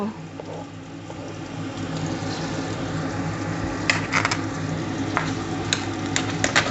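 Garlic sizzles as it drops into a hot pan while a beef stew is being made, giving a steady close crackle and hiss with a few sharper pops along the way.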